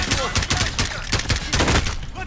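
Rapid bursts of gunfire from a Modern Warfare first-person shooter, repeated sharp shots in uneven clusters, loud and close, filling the whole moment with no talking.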